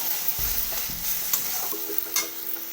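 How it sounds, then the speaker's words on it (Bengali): Spices including turmeric and Kashmiri red chilli fry together in a pan, a soft continuous sizzle with a few spoon scrapes and knocks against the metal, near and free of talk. "সবগুলো মশলা একসঙ্গে খুব ভালো মতো ভেজে নেবো"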